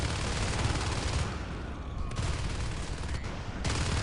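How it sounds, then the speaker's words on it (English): Rapid bursts of shotgun fire from Marines in a competitive sci-fi video game match, dense and continuous across the clip with mixed gunfire layered together, loud and steady with no talk. "these 3 Skulks are going to be met with shotguns"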